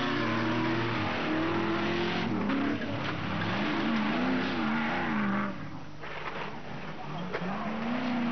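Rally cars at the AWDC Borders 100 in April 1981 drive a muddy course of about four miles, engines revving and droning steadily at moderate distance with shifting pitch, a brief dip partway through.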